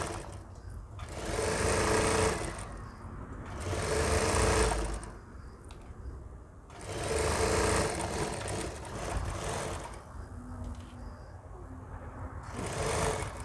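Sewing machine stitching a seam on a ladies' shirt with a covering placket, running in three or four sustained bursts with short pauses between them, close and steady.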